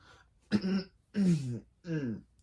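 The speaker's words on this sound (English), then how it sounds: "I was just coughing" Three short, throaty coughs sound close by with brief pauses between them, fairly quiet against a silent background.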